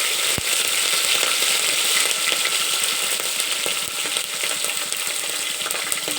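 Curry leaves and green chillies hit hot oil with urad dal in a pan, producing a loud, steady crackling sizzle throughout with a few sharp pops.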